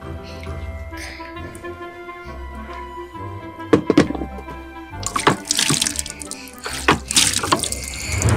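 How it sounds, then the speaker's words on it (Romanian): Running tap water splashes over hands being rinsed after soaping, loud and close, with bursts of splashing and dripping while a voice speaks over it. "Și ne spălăm cu apă."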